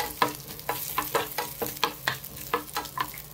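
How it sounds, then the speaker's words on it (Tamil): Garlic and ginger fry in a pan for tomato soup, a steady soft sizzle broken by a regular rhythm of spoon scrapes and clinks as the mixture is stirred close by. "அடுத்ததாக 1 துண்டு இஞ்சியை நல்லா கட் பண்ணி சேர்த்துட்டு நல்லா மிக்ஸ் பண்ணி விட்டுக்கலாம்."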